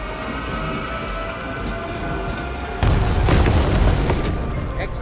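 A bullet train rumbles steadily, then surges louder with a sudden whooshing rush as it speeds past close by.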